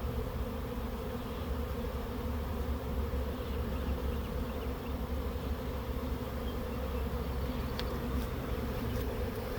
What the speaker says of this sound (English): But this is first swarm of the year, 2025.